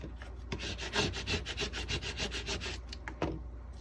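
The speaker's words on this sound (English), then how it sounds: "Burnish it down." Glitter vinyl being burnished down onto an acrylic cake topper, a close, quiet rapid series of scratchy rubbing strokes lasting a few seconds, with no talking.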